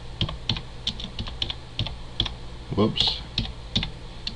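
A computer keyboard is typed on with one finger: irregular, separate clacks at a slow, uneven pace, close by, with a brief spoken exclamation midway.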